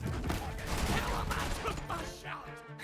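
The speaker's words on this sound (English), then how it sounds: "It's pretty fun with this cannon." Rapid booming cannon shots and crashing blasts in the video game Borderlands 3 pile up in a dense, loud barrage, with some talking mixed underneath.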